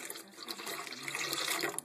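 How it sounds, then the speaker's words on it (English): Water is poured into a pot of venison chili, a steady bright splashing and gurgling stream lasting a couple of seconds, close and fairly loud. "So add about 15 ounces of water"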